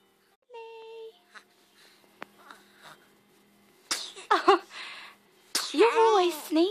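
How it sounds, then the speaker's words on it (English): A baby girl of about eight weeks sneezes indoors, a couple of short sharp bursts heard close up, while someone talks and coos to her in between. "You're always sneezing on my videos."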